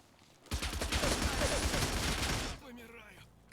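Sustained automatic gunfire from StalCraft, a rapid, loud burst of shots rattling on for about two seconds, then cutting off into quieter game ambience.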